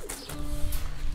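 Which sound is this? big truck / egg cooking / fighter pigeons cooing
fighter pigeons cooing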